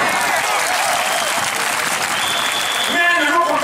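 Audience applause, a dense continuous clapping that stays steady and loud throughout, with a voice beginning to speak over it near the end.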